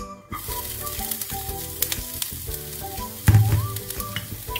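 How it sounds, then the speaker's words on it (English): Onions hit hot oil in a frying pan with a loud, close sizzle that swells as they land, mixed with clinks and scrapes from stirring and no talking. "we will now add our onions."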